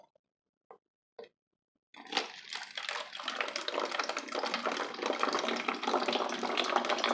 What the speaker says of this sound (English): Just poured water.